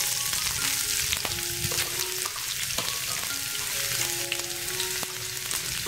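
Chopped onion frying in a pan of spiced oil for a homestyle pumpkin dal, a steady crackling sizzle with intermittent utensil taps and stirring strokes close up.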